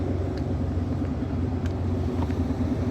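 A 2016 Porsche Macan S engine in Sport Plus mode idles with a steady, deep, guttural rumble, close by and continuous, with no talking.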